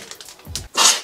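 A single sharp sneeze bursts out at the end, loud and close, after a few faint breathy sounds.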